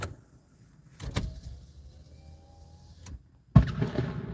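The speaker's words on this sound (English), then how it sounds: "We roll down a window or two." An electric car window motor whirs steadily for about two seconds as the window rolls down, bracketed by a couple of clunks and a louder thump at the end.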